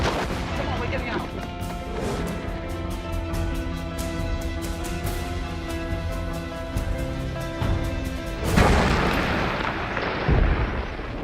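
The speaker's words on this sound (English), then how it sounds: "That's an explosion. That's not a gun firing." A heavy rumbling boom bursts out near the end, loud and broad, after a stretch of dense, continuous, rattling noise.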